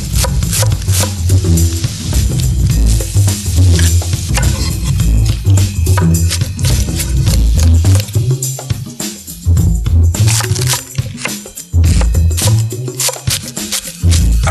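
Knife chopping cabbage and bok choy on a board, rapid, loud, close cutting strokes in dense bursts with a few brief pauses, no talking.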